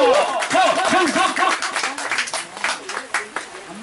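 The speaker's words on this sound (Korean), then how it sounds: "큰 박수 올려주십시오." Applause for a club chairman at the opening ceremony of a marathon club's sports day in an outdoor park: a crowd claps steadily for a few seconds while someone speaks over it through a loudspeaker.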